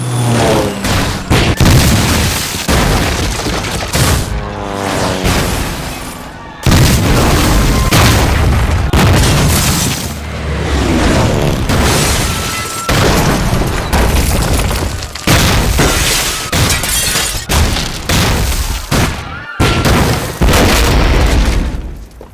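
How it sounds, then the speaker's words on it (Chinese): Aerial bombing of Nanjing by Japanese aircraft in a war drama: loud, continuous booming explosions rumble one after another for the whole stretch, with a brief drop near the middle before the blasts resume. "日军对南京进行了第1次轰炸，66架日军飞机分2批飞临南京上空。"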